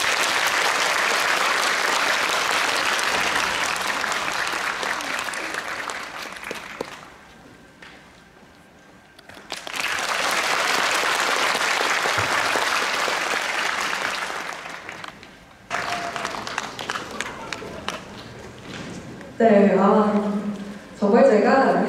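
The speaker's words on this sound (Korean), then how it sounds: "뜨거운 박수로 청해주시기 바랍니다." Large audience applauding at a Korean Navy anniversary concert in an arena hall, two long bursts of loud dense clapping separated by a lull, followed by announcer speech over fading claps.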